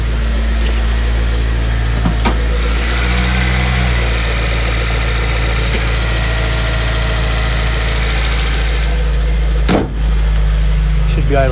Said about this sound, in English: See what it's idling at.